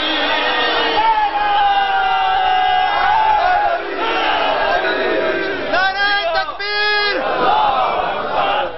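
A large crowd at an annual Shia mourning majlis roars a religious slogan together, with loud, surging shouts that rise and fall while a leading voice calls out between the chants.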